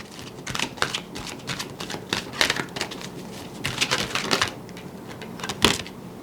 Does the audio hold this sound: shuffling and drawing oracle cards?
yes